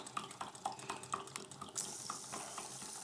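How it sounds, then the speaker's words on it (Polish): Water splashes and gurgles in steady pulses as an Ericsson hot-air engine pumps it, then turns into a continuous trickling flow partway through, quiet and close. "widać, że przepompowuje się woda."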